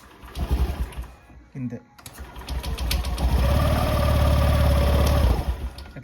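Honda Dio BS6 scooter with a self-start fault cranks on the starter, catches into a steady idle for a couple of seconds, then cuts out, close and loud, with someone speaking briefly before.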